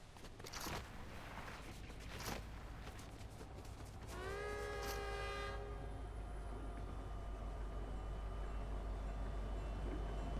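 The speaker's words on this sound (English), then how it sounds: "We just started hacking that train." A train in a video game passes with a faint rumbling run of rail noise and a horn blast in the middle, amid scattered game sounds.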